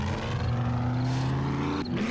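A loud truck engine in the 7 Days to Die video game, droning with steady low harmonics, briefly revving higher near the end, close and continuous with no talk over it.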